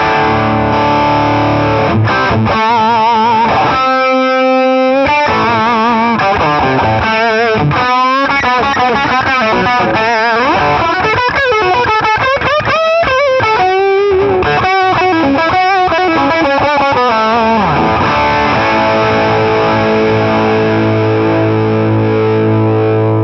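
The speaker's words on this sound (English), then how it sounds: "Let's see what the Archer sounds like as a distortion" Electric guitar played through a J. Rockett Archer pedal set for distortion, loud and sustained with chords and single-note runs, a thick saturated tone ringing out continuously with no voices.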